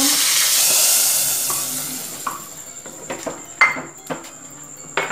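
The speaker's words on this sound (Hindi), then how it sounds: "ये तड़का जो है इन छोलों में डाल देंगे हम" Hot tadka tempering hits the chickpeas with a loud hiss that fades over a couple of seconds, followed by scattered clinks and stirring scrapes of a spoon against the pan.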